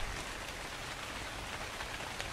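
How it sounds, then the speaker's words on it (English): Steady rain from the video game Ark Survival Evolved pours down continuously, a dense even hiss of drops striking surfaces, heard alone with no talking. "who helped make this game and decided, you know what, let's blind everybody with the rain?"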